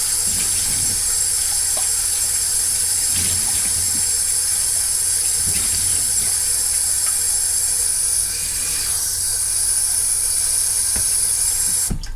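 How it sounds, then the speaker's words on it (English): Steady running tap water splashes and hisses into a sink while onions are rinsed, for the whole stretch, with faint handling clatter now and then. No one speaks. "I need to get that in water and rinse them."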